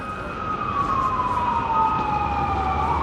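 Emergency vehicle sirens wail along a busy New York street in Manhattan, loud and close, with a rising and falling tone that sweeps downward over steady traffic rumble and no speech.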